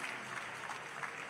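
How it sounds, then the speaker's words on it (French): An audience at a festival awards ceremony applauds in a steady, dense wash of clapping that stays even and fairly faint throughout. "Applaudissez le Hellfest"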